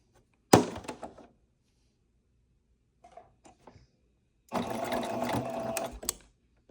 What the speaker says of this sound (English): I am just gonna stitch all the way around